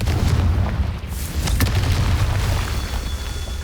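Confringo fire-blast spell explosions in the Hogwarts Legacy video game roll out as dense, loud booming blasts over a rumbling low background, with sharp crackling bursts in quick succession near the middle.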